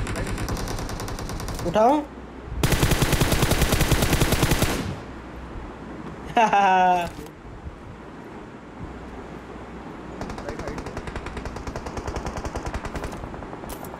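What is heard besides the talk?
gunfire in a BGMI-style battle royale video game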